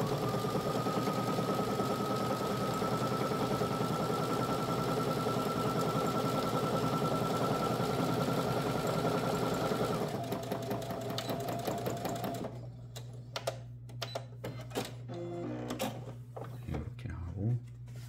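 A sewing machine hums loudly and continuously while sewing a 1 cm seam along the fabric's edges, then slows into uneven bursts and clicks as the stitching ends.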